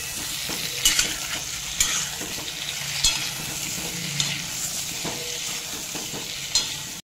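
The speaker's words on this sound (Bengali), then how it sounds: "এরপর আমলকিগুলো এখানে দিয়ে দিচ্ছি, দিয়ে করে 3 থেকে 4 মিনিট একটু নাড়াচাড়া করে নিচ্ছি" Steamed amla (Indian gooseberries) stirred in a hot pan, a steady close sizzle with a few sharper scraping strokes of the spatula spaced through it and no talking.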